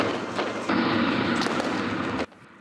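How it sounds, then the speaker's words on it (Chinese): Simulated bombing during a wartime rescue drill: a sustained loud, roaring blast rumble close by, holding steady for about a second and a half with crackling bursts inside it, then cutting off abruptly into quiet. "轰炸声一直响，模拟的是敌军侵犯进行轰炸"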